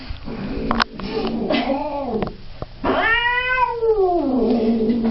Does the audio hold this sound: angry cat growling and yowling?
yes